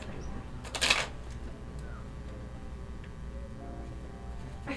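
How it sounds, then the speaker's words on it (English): A deck of playing cards shuffled during a close-up magic trick: one quick riffle burst near the start, then quiet handling with faint card taps and rustles. "Would you shuffle the cards?"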